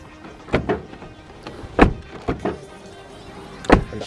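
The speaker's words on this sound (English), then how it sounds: "when I do open this passenger side door, you can hear that little clunk" Passenger door of a Honda Civic FN2 Type R, its wing pushed up against the door, gives several short, close thunks and clunks as it is opened, spaced irregularly with quiet gaps between.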